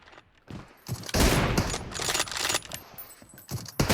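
Gunfire in a multiplayer shooting video game, bursts of sharp bright shots and rattling fire in an irregular rhythm, close and fairly loud, with no talk over it.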